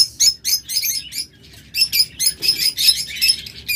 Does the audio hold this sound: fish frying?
no